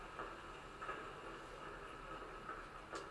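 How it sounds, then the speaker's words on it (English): Rumbling tram ride in the video game Daymare 1998, a steady rail rolling noise with faint clickety-clack and occasional brief higher screeches, heard alone without talk. "Oh, looks like we're going on the tram here"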